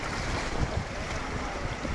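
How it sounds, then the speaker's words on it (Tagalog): Steady wash of strong sea waves mixed with heavy wind buffeting the microphone, a dense continuous roar with no voices. "Medyo malakas pa rin alon yan."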